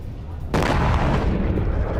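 A sudden deep boom erupts from the bombing of an IRGC drone launch center, then settles into sustained heavy rumbling and roar that stays loud to the end.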